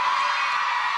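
A studio crowd screams and cheers loudly for drama actors at a television variety show, a dense continuous shrill roar filling the moment.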